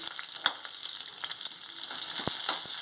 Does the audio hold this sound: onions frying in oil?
yes